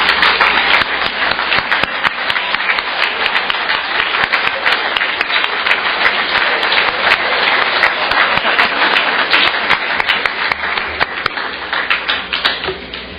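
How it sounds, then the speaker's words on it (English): Sustained applause fills an athletic banquet hall as the audience claps for the mothers in attendance, a dense, steady patter of many hands from start to finish with no talking. "please join me in a round of applause for all of our moms that are with us today"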